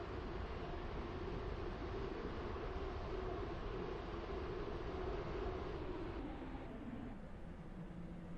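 A train rolling along the line in the Roblox Stepford County Railway game, a steady low rumble and hum of rail running that stays constant, then eases slightly toward the end.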